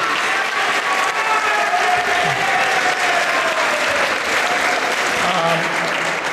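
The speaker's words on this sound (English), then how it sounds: "Please give Josh a round of applause" Sustained applause from a school assembly audience, a dense crowd clapping steadily from start to finish, with faint voices mixed in.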